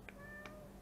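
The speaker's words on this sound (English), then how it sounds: "He's a stubborn cat." A cat gives two short, faint meows about a third of a second apart indoors, over a low steady background hum.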